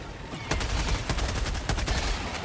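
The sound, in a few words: gunfire from a weapon in the video game Helldivers 2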